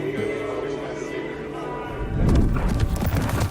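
A bucking bronc's hooves in a designed film scene set to honky-tonk music, with heavy rhythmic thuds and clops building into a louder, busier stretch of pounding in the second half.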